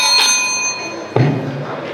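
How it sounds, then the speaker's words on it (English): A single bright ring from the final bell at a school English poem recitation competition, loud and close with a long ringing decay, followed by a soft thump. "a final bell will be given like this"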